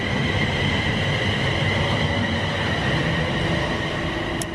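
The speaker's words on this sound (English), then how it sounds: "here comes our train that's going to take us to Bedford" A train pulls into a railway station on a route toward Bedford, giving a steady loud rumble of wheels and carriages with a faint high squeal near the end and no voices.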